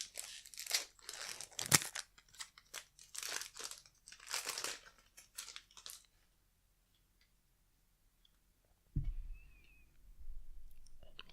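Close, crisp crinkling and crunching of foil Magic The Gathering card pack wrappers being opened, in several bursts of rustling followed by a quiet pause and then a softer handling sound, with no talk.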